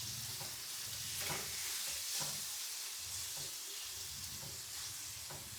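Spice masala cooks in hot oil for an eggplant bharthu with a continuous soft sizzle and hiss. Stirring scrapes and taps come at an irregular rhythm, close and fairly quiet.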